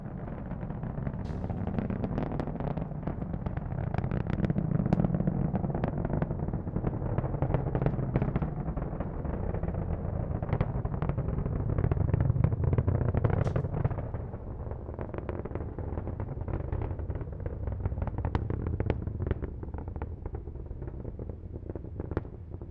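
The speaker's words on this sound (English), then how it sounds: "Let's listen to the roar of those 9 Merlin engines." SpaceX Falcon 9 rocket launching from Central Florida, its nine Merlin engines producing a steady, distant, rumbling roar with crackling texture that holds for the whole stretch without any talk.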